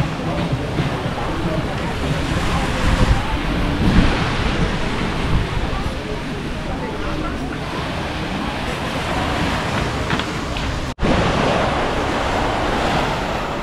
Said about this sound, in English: There you go, we're right here on the beach.